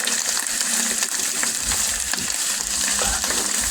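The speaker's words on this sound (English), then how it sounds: "Give that a stir." Rice sizzling in a hot pan while being stirred, a steady bright frying hiss with soft scraping stir strokes close up.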